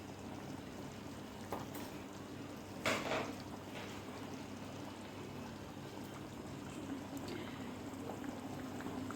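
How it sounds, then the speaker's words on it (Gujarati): A pan of kantola vegetable curry simmering quietly, with a faint steady bubbling and hiss and a few soft clinks, no voices. "શાક આપણું સરસ ઉકળી ગયું છે"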